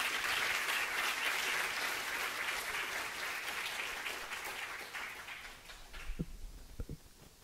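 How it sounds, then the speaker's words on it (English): An audience at a children's book-signing event claps for a young author, a full burst of applause that gradually thins and fades toward the end, with a few scattered claps and faint murmurs at the close. "Give him a big round of applause."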